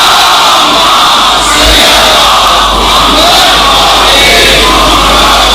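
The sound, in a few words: crowd loudly chanting salawat in response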